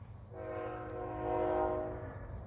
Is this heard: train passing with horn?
yes